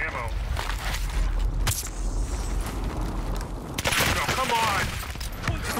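Rapid bursts of gunfire from the video game Call of Duty Warzone, in the gulag arena, crackle through most of the stretch, loud and dense, with voices talking over the shooting.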